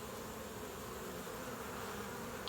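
A dense, steady hum of many honey bees buzzing together at a hive entrance in autumn, bringing in goldenrod pollen, continuous and even, faintly heard with no voices.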